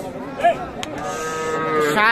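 A Friesian cross bull calf moos at a busy cattle market: one long, harmonic bellow that rises and falls across the whole span over a steady background of crowd and market noise.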